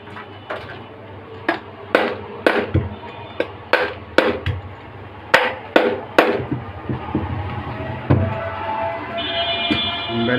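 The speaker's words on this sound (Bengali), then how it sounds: "3টা নাট লাগিয়ে হাত দিয়ে বাড়ি দিব।" Sharp metallic knocks struck by hand against a ceiling fan shaft fitted with three nuts to free a seized bearing, about a dozen irregular close impacts ringing over a low hum.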